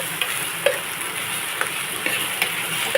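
Ginger paste frying in a pan, a steady soft sizzle with occasional faint clicks of stirring.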